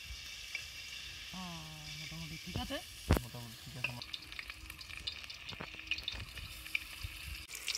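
Mushrooms frying in hot white oil in a wok, a steady crackling sizzle with stirring clatter throughout, while a person speaks briefly over it.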